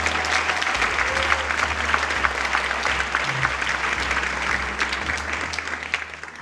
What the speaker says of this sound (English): please join me in applauding Alexa.